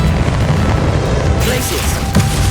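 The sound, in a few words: Convulso spell explosion in Hogwarts Legacy video game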